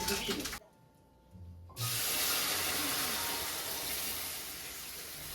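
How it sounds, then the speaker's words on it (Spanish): Chopped onion frying in a skillet gives a steady, fairly loud sizzling hiss that starts abruptly after a brief quieter pause and carries on evenly to the end. "Ya tengo por aquí mi sartén, estoy friendo un poco de cebolla para poder vertirle la salsa que estuvimos licuando."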